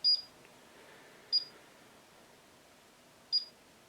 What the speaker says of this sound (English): every beep suggests to me that the unit is taking a measurement